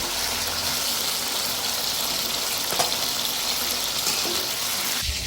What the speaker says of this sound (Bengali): ঢেঁড়সটা আমরা অল্প ভেজে উঠিয়ে নেব